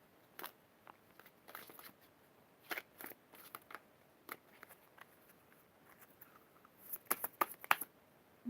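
Tarot cards are shuffled by hand, making faint, scattered riffles and soft flicks that come in short bursts and grow busier toward the end.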